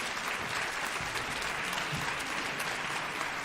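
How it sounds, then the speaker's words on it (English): An audience at a storytelling symposium bursts into sustained applause, a dense even wash of clapping from many hands heard at a moderate distance with no speech. "Let's give her a round of applause."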